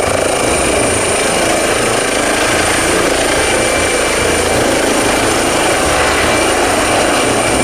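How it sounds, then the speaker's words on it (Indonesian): A red and yellow toy helicopter with white rotor blades gives a steady, loud whirring buzz that runs unbroken and alone throughout. "ini ada helikopter."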